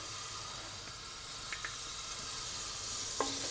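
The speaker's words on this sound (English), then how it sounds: "fry the onions until they're just soft and lightly golden." Finely chopped onions frying in butter and a little oil in a hot pan, a soft continuous sizzle and hiss with a few faint clicks, quiet and without speech.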